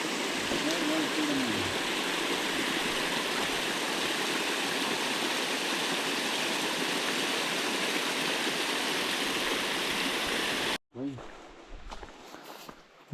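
A waterfall on a hiking trail in the Smokies pours with a loud, steady rush that fills most of the scene, with a voice briefly audible early on, before the sound cuts off abruptly near the end.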